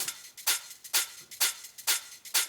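A rolling hi-hat pattern in a music production, crisp ticking hits in quick groups with brighter accented strikes repeating at a steady pulse, heard alone and fairly soft.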